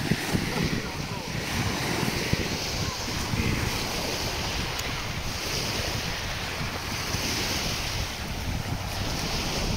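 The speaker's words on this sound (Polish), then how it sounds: "Dzisiaj troszkę wietrznie." Wind and breaking sea waves on the beach at a Turkish all-inclusive resort in Kemer, Goynuk, a steady broadband roar of surf with gusting wind buffeting the microphone throughout, fairly loud and continuous.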